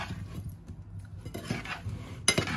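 Cherry tomatoes are tossed with oil, basil and salt in a dish, giving soft, close utensil scrapes and light clinks against the dish, with one sharper clink near the end.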